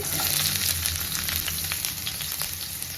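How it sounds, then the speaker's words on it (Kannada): Onion and garlic frying in hot oil in a kadai, a dense close sizzle with light crackles and a few stirring taps, steady and uninterrupted, no talking. "ಸೊ ಇಲ್ಲಿ ಈ ಕಡೆ ಆನಿಯನ್ ಚೆನ್ನಾಗಿ ಫ್ರೈ ಆಗ್ತಾ ಇದೆ"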